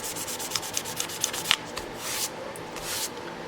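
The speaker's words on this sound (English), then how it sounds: "So you use a lot of sandpaper when you do it this way." Sandpaper is rubbed by hand over a guitar's finish in a series of short, dry, rasping strokes, close and moderately loud, with faint little taps between passes.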